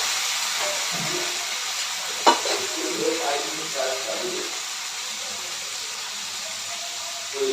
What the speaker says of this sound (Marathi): टोमॅटो पण छान असा मऊ होईपर्यंत आपल्याला शिजवून घ्यायचं आहे